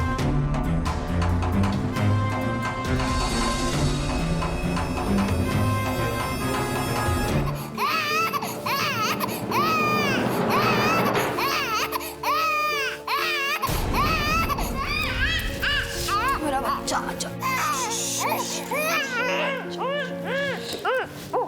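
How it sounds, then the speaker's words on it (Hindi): A baby cries and wails insistently in a domestic drama scene, the crying continuous and loud across the clip, mixed with background music and other sounds. "इतने समय से बच्चा रो रहा है,"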